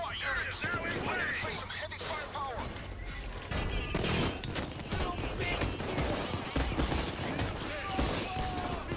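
Dense exchange of gunfire in the heist shooter Payday 2, with bursts of automatic fire, crashes and scattered shots running continuously, mixed under game voices and a player talking.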